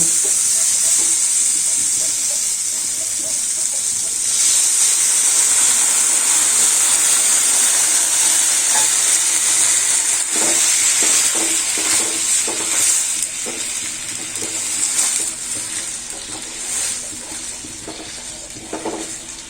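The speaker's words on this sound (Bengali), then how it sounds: "আমি এখন জল দিয়ে দিব।" Water poured into a pan of jackfruit seed curry sets off a loud, hissing sizzle with bursts of steam. Stirring and scattered clinks of a utensil against the pan follow close by, and the hiss slowly settles.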